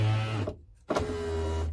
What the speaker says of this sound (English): I have installed the window lifter and the glass also.